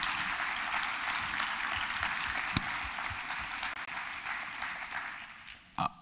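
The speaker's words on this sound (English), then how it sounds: "So let's give Carolyn and this entire team another big round of applause." An audience at a talk on GMO technology applauds a team, steady mid-distance clapping that thins out and fades near the end.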